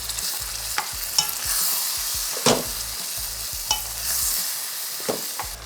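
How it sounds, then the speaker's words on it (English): Beef pieces tossed in a pot for Trinidad-style curry beef, with a steady sizzle and repeated scraping stirs and clanks of the spoon against the pot, close and fairly loud, no talking. "now we're going to add the beef to the pot. Give that a toss"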